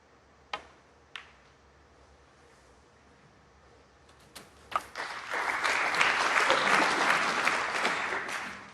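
Snooker crowd at the 2023 British Open: a few isolated claps and cue clicks in a quiet hall, then a sustained burst of warm applause swells and holds steady, close and full.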